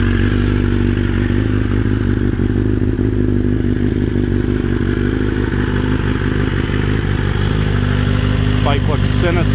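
A BMW S1000RR sportbike idles loud and close through a Brock's exhaust, its low steady rumble running continuously with a faint clatter, and a person speaks briefly over it near the end.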